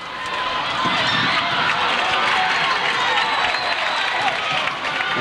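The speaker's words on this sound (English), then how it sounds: "Crowd yelling for an over and back there." Basketball crowd in a high school gym at Montague versus Shelby, 1988, yelling loudly for an over-and-back call, a dense, sustained roar of voices that stays steady throughout.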